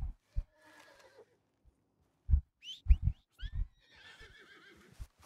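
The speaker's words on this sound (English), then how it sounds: "What a picky horse." A horse in the video game Red Dead Redemption 2 whinnies in a sharp, high-pitched burst amid scattered hoof thuds and soft snorts, fairly quiet and otherwise alone.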